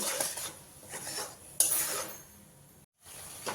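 A spoon scrapes and clinks against a pan while spice paste with turmeric and salt is stir-fried for a Bengali doi potol, with a soft sizzle under the bursts of stirring and a brief gap near the end.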